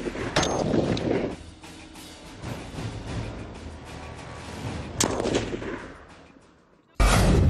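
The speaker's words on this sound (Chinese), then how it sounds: "现在是手持狙击步枪，哎，在隐蔽状态下准备装弹射击了" A sniper rifle fires at an army hunting-style shooting competition, with sharp loud reports, one early and one later, followed by rumbling outdoor noise that ends in an abrupt louder burst.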